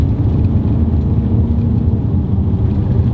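Audi B8 RS5 with a 4.2L V8 and JHM 2.75-inch valved cat-back exhaust under light throttle gives a steady, loud, low engine rumble heard from inside the car, with no one talking.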